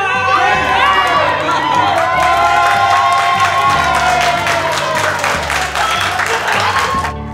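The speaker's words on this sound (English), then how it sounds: "everybody turned around, gasped, and started clapping" Audience cheering and clapping loudly and continuously as a suited teacher strides into a room, a dense crowd roar with excited shouts throughout.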